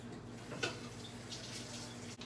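A drink is poured into a cup packed with ice, giving a steady liquid splash under soft hiss with a sharper crackle partway through, heard close and alone.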